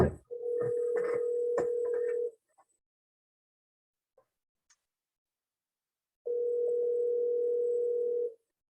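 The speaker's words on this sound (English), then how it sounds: "we've got a phone ringing" Over a video call, a phone rings in two long, steady electronic tones, each about two seconds, separated by a gap of near silence.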